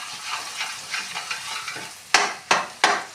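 Carrot pudding with milk and sugar stirred in a pot: soft repeated scraping strokes, then several louder, sharper scrapes near the end, close up with no talking.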